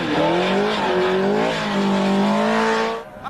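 TVR Tuscan race car held in power slides, engine note rising and falling at high revs with tyre squeal, loud and close throughout.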